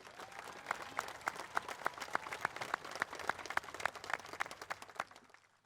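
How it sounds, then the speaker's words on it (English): An audience at a 2021 high school commencement ceremony applauds the students graduating with honors, with sparse, distinct claps ringing out over a softer crowd wash before fading at the end. "how about one more round of applause to recognize all of our students graduating with honors today"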